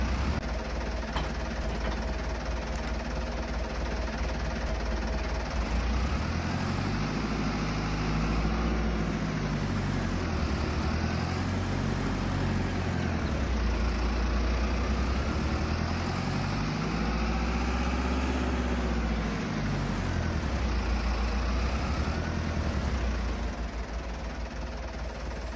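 Tractor engine in Farming Simulator 22 hauling a John Deere disker across a field, a steady, loud mid-pitched drone with slow rises and falls in load throughout, no talking.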